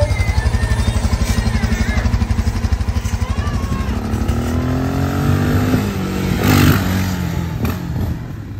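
A motorcycle engine revs loudly up close, its pitch climbing and falling in uneven bursts, with a faint voice underneath.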